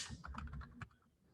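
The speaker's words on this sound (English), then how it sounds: "So I'll just simply finish typing out." Rapid typing on a computer keyboard, a quick run of close, crisp key clicks for about a second that then stops, leaving faint room noise.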